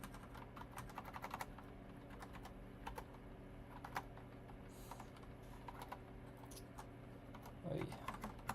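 Keys clatter on a computer keyboard in quick irregular bursts with short pauses, fairly close and quiet, while a steady faint hum sits underneath.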